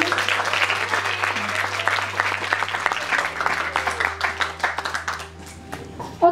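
A student audience at a Christian school Bible leadership camp applauds, dense clapping that stays steady, then thins toward the end with a final few claps.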